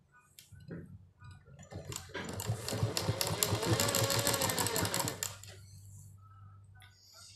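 A sewing machine stitches fabric in a quick, even burst of rapid ticking and whirring lasting a few seconds, close and fairly quiet, starting and stopping cleanly.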